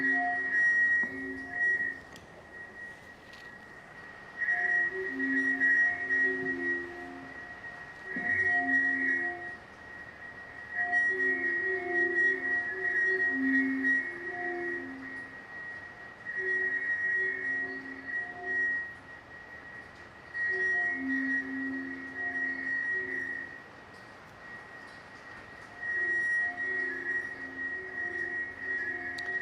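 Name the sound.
Alvin Lucier's I Am Sitting in a Room, recording feedback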